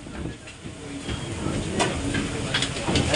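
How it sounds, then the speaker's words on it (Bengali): Luchi, puffed Bengali flatbread, deep-frying in hot oil in the galley of a boat on a Sundarbans trip, a steady broad sizzle and hiss with occasional sharper bursts, close and continuous over a low engine-like rumble. "এখানে লুচি ভাজা হচ্ছে"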